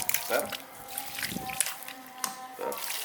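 Water is poured over a newly planted grape seedling, a soft, low trickle and splash that comes and goes beneath talking voices.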